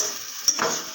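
Curry stirred in a pan gives a brief sizzle with a soft scrape partway through, close and fairly quiet, with no voices.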